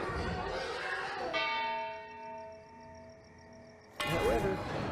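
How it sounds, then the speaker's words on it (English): A town bell in the video game Sintopia rings out as a single bright, sustained clang whose tone slowly decays, followed by a sudden burst of louder game sound; a voice talks before it. "Oh, I have to click on the bell."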